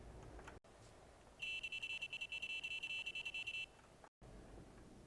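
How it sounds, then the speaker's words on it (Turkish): A thin, high-pitched truck horn on a new Volvo, sounding like a bicycle horn, honks in a rapid string of short toots for a couple of seconds over quiet engine hum. "Bisiklet kornası gibi bu ne"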